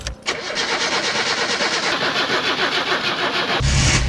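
A car engine in the video game My Summer Car cranks with a rapid rhythmic chugging of the starter for several seconds before catching and roaring louder at the end, close and clear with no talking.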